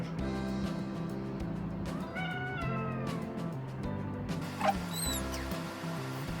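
A cat meows repeatedly, several drawn-out, rising and falling cries close by, with a faint continuous background hum beneath them.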